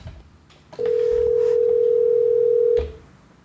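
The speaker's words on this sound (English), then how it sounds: "let's call Al right now" A steady telephone tone sounds while a call is placed, a single loud, unbroken pitch that lasts about two seconds, alone with only faint room noise around it.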